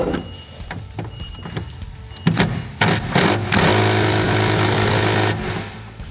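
An impact gun spins off a 10 mm bolt while a canopy bracket is fitted to a BYD Shark ute, with short bursts early on and then a sustained loud whirring rattle for a couple of seconds, up close.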